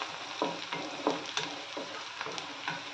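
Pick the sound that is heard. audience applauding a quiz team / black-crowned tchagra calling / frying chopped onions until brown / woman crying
frying chopped onions until brown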